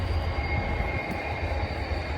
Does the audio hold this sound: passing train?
yes